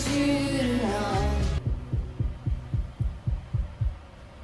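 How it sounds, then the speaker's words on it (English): Deep, regular thumping beats like a heartbeat close out a song, about a dozen soft low pulses in steady rhythm after the music drops away. "the beats at the end kind of like sounded kind of like a heartbeat"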